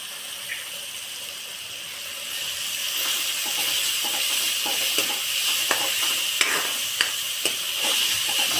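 Onion, chili, ginger and garlic paste sautéing in oil, a steady bright sizzle that swells after a couple of seconds, with scattered small pops and stirring clicks, close and continuous, no voices.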